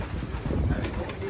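Pigeons cooing and fluttering outdoors, a steady busy bird texture with soft wing flaps, moderately loud throughout.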